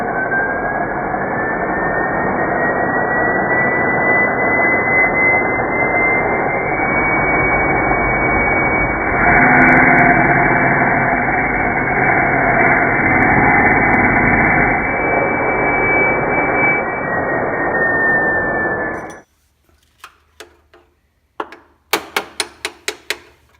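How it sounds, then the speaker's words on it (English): An angle grinder cuts the head off a seized bolt on a Porsche Sports Exhaust, a loud, continuous close-up grinding roar for about nineteen seconds before it stops, followed by a few sharp metallic clicks. "So I'm going to have to get the angle grinder in here and try and cut that head off"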